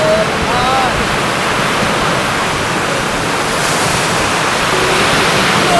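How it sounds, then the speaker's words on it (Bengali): High-tide sea waves off the Sundarbans coast of Bagerhat make a constant, loud, rushing wash of surf that rolls on without pause. "জোয়ারে ঢেউ থাকে, জোয়ারে ঢেউ।"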